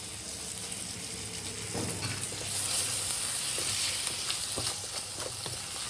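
Vegetables with ginger fry in a pan for pav bhaji, giving a steady close sizzle with soft scraping stirs and small crackles throughout, no talking.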